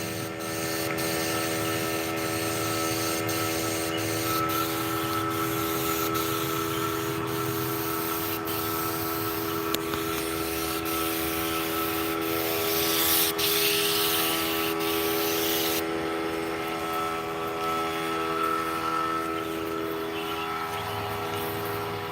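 A paint sprayer fed by a small 3 horsepower pancake compressor spraying Kilz primer, giving a continuous loud hiss with a steady droning hum underneath, sustained throughout without talk.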